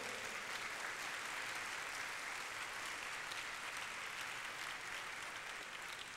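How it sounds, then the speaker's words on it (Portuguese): A church congregation claps together during a Wednesday worship service, continuous dense applause at a fairly quiet, slightly distant level, even throughout with no voices standing out. "Você quer aplaudir ao Senhor?"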